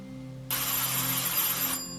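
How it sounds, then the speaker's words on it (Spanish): A doorbell rings at a door, a bright electronic ring that bursts in loud and sustains for over a second before cutting off, with a low steady hum beneath. "¿Quién llama a la puerta ahora?"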